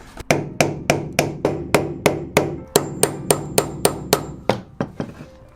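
Hammer blows strike during removal of the floor from a VW Crafter van conversion, about fourteen sharp, evenly spaced impacts ringing with a woody, metallic knock, close and loud.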